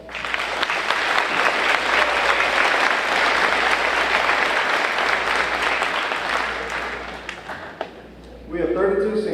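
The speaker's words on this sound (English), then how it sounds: "please give our teachers a round of applause" A graduation crowd at a 2020 high school ceremony applauds its teachers with a long, loud, steady burst of clapping that fades near the end, as a voice begins speaking over it.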